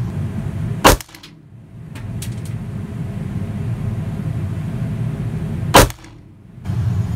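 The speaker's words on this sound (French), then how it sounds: "je vais tenter que 5 cartouches histoire de voir la différence de tir et la puissance" A HS H11 gun fires cartridges at 25 metres with a laser pointer, giving two loud, sharp reports about five seconds apart, each cutting out a steady background hum.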